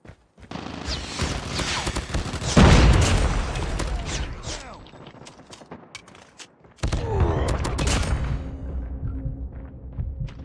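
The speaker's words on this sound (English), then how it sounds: "Frag out." A frag grenade goes off in the Call of Duty Mobile shooter game as a loud booming blast amid continuous rapid gunfire, then the shooting fades and a second dense volley of gunfire and action sounds breaks out.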